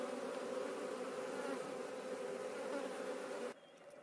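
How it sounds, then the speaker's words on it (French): Honey bees gathering at a small chalet-roofed hive with a tiled roof, a dense steady buzzing hum up close that cuts off abruptly near the end, with no talk. "Vous voyez, les abeilles sont installées maintenant dans cette petite ruche à toit chalet avec son toit en tuiles."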